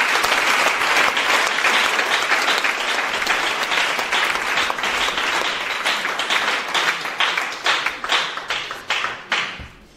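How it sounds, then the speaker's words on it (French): A church congregation applauds loudly and continuously, dense close clapping with some cheering, the claps thinning into separate rhythmic slaps before fading out. "Acclamons encore ce Dieu merveilleux."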